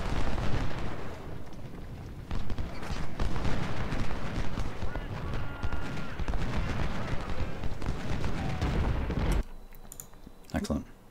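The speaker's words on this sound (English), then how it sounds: "the cannons are continuing to try and fire into Preston" Repeated booming cannon fire from Civil War artillery in Ultimate General: Civil War at 2nd Bull Run, heavy irregular blasts layered into a dense, continuous barrage that cuts off abruptly near the end.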